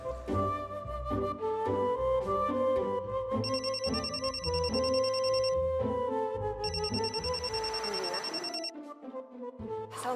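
A telephone rings repeatedly in a steady pattern over background music while a call is being placed, loud and continuous throughout.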